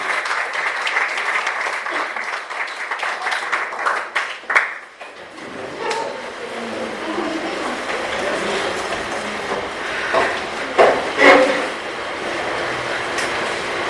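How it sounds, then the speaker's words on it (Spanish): A church congregation claps and applauds during a conference session, steady crowd clapping that shifts into rougher, rumbling cheers and noise. "Dele palmadas y aplauso al Rey que vive"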